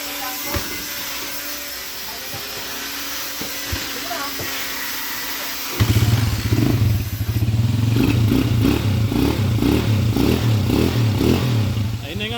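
A 200cc-converted motorcycle engine starts midway and settles into a loud, steady, rapidly pulsing idle close by, after a quieter stretch of background noise and voices.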